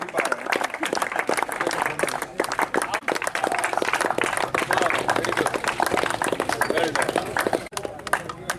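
Audience at a cricket final prize ceremony clapping steadily and loudly, dense continuous applause from a crowd, with a voice speaking over it.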